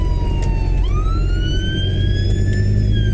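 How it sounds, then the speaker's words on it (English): A fire engine's siren passes along a narrow town street, a loud rising and gliding wail that swells and bends in pitch as the truck goes by over steady traffic rumble. "Oh, there's a fucking fire engine."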